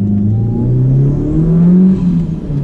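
A turbocharged Mitsubishi Evo engine revs loudly up and back down, its rising and falling drone steady and close with no voices over it.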